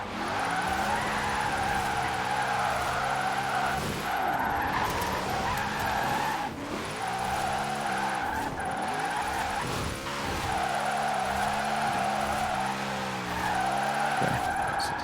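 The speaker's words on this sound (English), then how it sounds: "Going way sideways, getting that crazy angle, right?" A drift car in Forza Horizon 4 slides sideways at a steep angle, with sustained tire squeal and skidding over a loud revving engine that rises and dips throughout, no talking.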